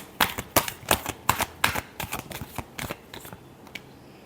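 A deck of tarot cards is shuffled in quick, crisp bursts, about a dozen riffling snaps in an uneven rhythm that thins out toward the end, close and alone with no talk.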